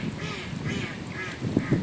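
Ducks at a lake quack in a quick series of nasal calls, close and clear over a soft outdoor background.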